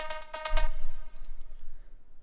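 A thin synth lead layer from a progressive house track, only its high end kept, gives a few short bright stabs and then fades to a faint hissy tail, with no voice.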